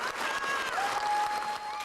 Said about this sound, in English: Families and friends clapped and cheered